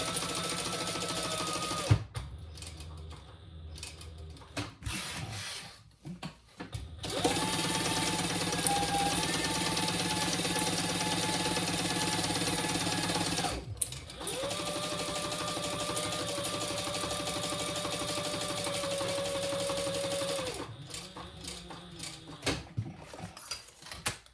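Sewing machine basting two layers of a Teresita train case: long runs of fast, even motor-driven stitching, broken by pauses with clicks and handling noises, close and fairly loud, no voices.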